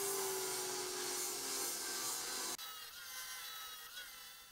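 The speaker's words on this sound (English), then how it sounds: "So I switched over to a 40 grit flap wheel on the grinder" A grinder fitted with a 40 grit flap wheel polishes the steel head of a hewing hatchet, giving a steady abrasive whine and rub that runs loud and continuous, then drops sharply partway through as the wheel leaves the metal.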